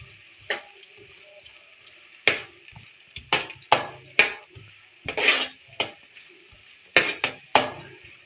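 A cup of carrots frying with cumin in a pan comes through mostly as a run of separate, sharp scrapes and clatters of a utensil against the pan, with a faint sizzle in the gaps.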